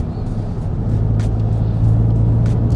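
A VW Golf 7.5 GTI Performance engine drones steadily from inside the moving car, a low turbocharged rumble that swells slightly as it pulls, with no talking.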